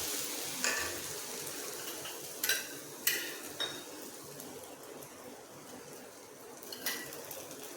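Rava dosa batter cooking on a hot griddle, a soft steady hiss broken by a few sharp clinks of a utensil against metal.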